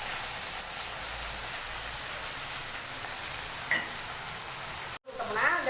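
Onions sautéing in oil with salt, a soft, even sizzle heard from close by, with a brief clink near the end followed by a short burst of scraping.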